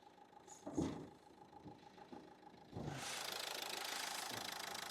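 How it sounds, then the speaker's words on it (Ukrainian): Renault Megane 3 from 2011 with a 1.5 dCi K9K diesel engine idling, a steady clattering knock close by, joined by a louder broadband whoosh of airflow partway through. "Зверніть увагу, як працює двигун."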